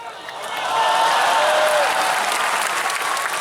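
A lecture audience breaks into sustained applause, swelling quickly and holding as a dense, steady patter of many hands. Faint vocal sounds sit underneath.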